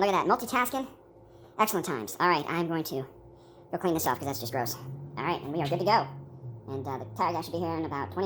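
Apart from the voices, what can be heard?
No everyday noises stand out.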